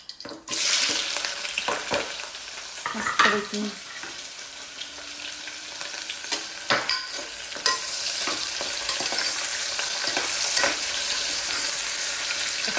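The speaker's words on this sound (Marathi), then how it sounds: "खचखचूड आवाज" Chopped onion hits hot oil in a pan for a rustic village chicken curry, bursting into a loud, steady sizzle and frying hiss that carries on throughout, with a few clatters and stirring scrapes near the start.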